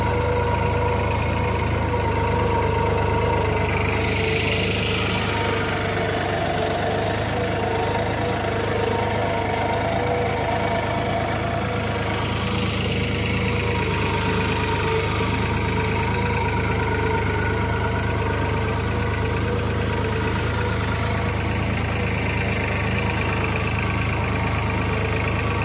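A New Holland 3600-2 tractor engine idles in a loud, steady low rumble that holds constant throughout, with a faint rushing swell now and then and no voices.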